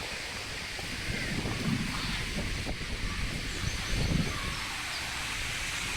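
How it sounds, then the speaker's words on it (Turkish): Wind blows steadily through tree branches and leaves in a green forest near the Nideck waterfall, a continuous rushing noise that swells slightly in the middle. "ağaçların dal ve yapraklarından da fark edeceğiniz gibi gayet rüzgarlı"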